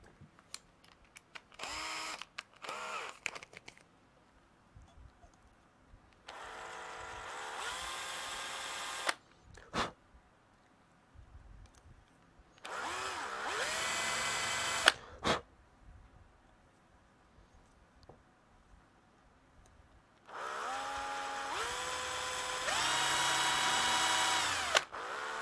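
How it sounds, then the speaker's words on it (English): A power drill widens a hole using only its bit tip during a Voron V2.4r2 3D printer build, running in several separate whirring bursts with quiet gaps between them. "Just using the tip of the drill really to"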